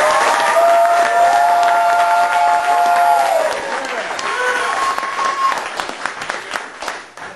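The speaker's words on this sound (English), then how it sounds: "Everybody give a round of applause." An audience at a Fayetteville underground music show applauds and cheers for a band, with loud, dense clapping and whistles up front that gradually thin out and fade.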